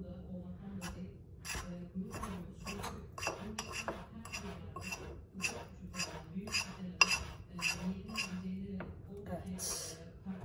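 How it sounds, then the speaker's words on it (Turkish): A metal spoon stirs a coffee mixture in a cup, giving a steady run of light clinks and scrapes against the sides, close and moderately loud with a low background hum. "Hemen karıştıralım."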